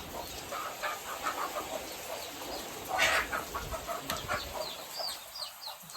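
A hen clucks in short repeated bursts amid steady heavy rain, with a brief louder flurry midway as she runs away.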